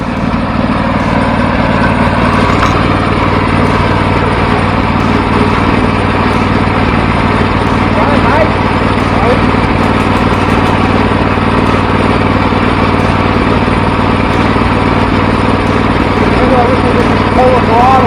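A Harbor Freight 424cc inline twin engine runs loud and close, a steady, continuous rumbling drone throughout, with voices talking over it.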